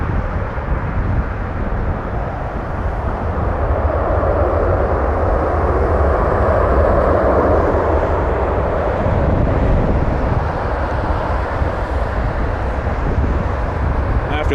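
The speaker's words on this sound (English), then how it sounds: "this is the 100th 737NG, apparently, according to the livery paint" A Boeing 737NG airliner in special 100th 737NG livery passes at Toronto Pearson, a broad, steady jet engine roar swelling slightly in the middle and easing off, continuous and fairly near.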